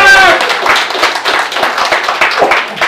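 Loud, close clapping from an audience welcoming Datuk Lokman at a political forum, dense and continuous for a few seconds, with a voice briefly audible at the start.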